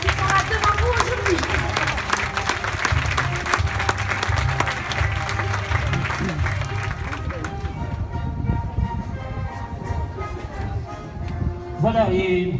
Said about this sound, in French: Un tonnerre d'applaudissements pour tous ces cavaliers et cavalières qui sont là devant vous aujourd'hui.